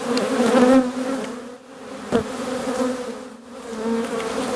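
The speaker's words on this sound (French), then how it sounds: "il faut essayer de refermer la ruche sans écraser les abeilles" Honey bees swarm around an opened hive at an apiary on a spring visit after bad weather, a dense, steady droning buzz close by that swells and dips, with one brief knock partway through.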